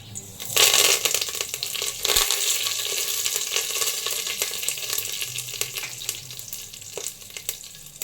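Curry leaves hit hot oil already holding cinnamon, cloves and other whole spices for a chicken gravy, erupting in a loud close crackle that settles into a dense, steady sizzle with scattered sharp pops.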